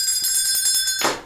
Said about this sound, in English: My husband hates when I ring that bell